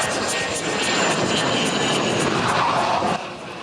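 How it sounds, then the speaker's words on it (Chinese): F-16V fighter jets scramble over Taitung during the Han Kuang 39 military exercise, filling the sky with a loud, steady, broadband engine roar that holds for several seconds and then eases slightly. "战机引擎声伫台东的天顶响起"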